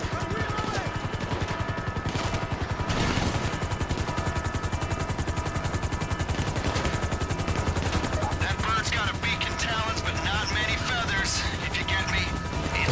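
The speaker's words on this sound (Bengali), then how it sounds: "অবশেষে দেখা মিলল আমাদের সেই ভেলকারি হেলিকপ্টার" A Valkyrie helicopter in a video game thrums with a steady rotor beat, joined by crackling gunfire bursts and mechanical game effects throughout.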